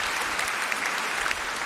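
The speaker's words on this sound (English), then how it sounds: "round of applause." Debate audience giving a round of applause, steady dense clapping from many hands throughout the short burst, with no voices over it.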